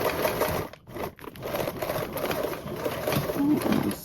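A sewing machine back tacking across a duffle bag seam, a close, steady mechanical whir with a brief pause partway through, then running on again at a constant pace.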